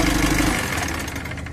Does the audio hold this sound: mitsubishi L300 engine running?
yes